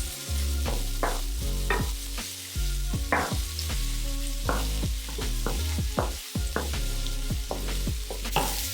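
Sliced red chilies are tossed in a hot frying pan: constant sizzling with repeated scraping and clattering stir strokes, close and steady, with no talking.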